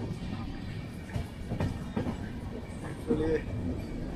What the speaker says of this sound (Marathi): अंजनीवरनं आता ट्रेन सुटलेली आहे